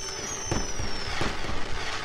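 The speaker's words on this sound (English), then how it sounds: "fireworks are gonna go off" Several firework bursts crackle and boom in the video game Starbound over a steady hiss, with a faint whistling tone sliding down in the background.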